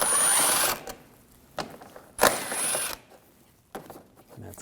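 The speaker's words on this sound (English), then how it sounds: "Now take these two screws out, same 8mm socket." An 8mm socket wrench removes grille screws from a 2007-2013 BMW 328i, with short bursts of ratcheting clicks separated by pauses, close and fairly quiet, under and between bits of speech.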